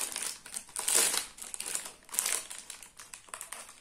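Plastic packaging of a Torku Gala forest-fruit cake being torn open, close-up crinkling and ripping in several bursts, loudest near the start and again midway, with no speech.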